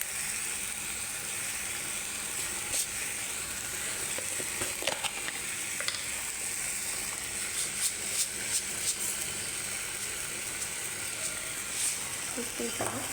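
Water spinach (kalmi shak) cooks in a pan with a steady soft sizzle and occasional stirring clicks, with faint background noise throughout.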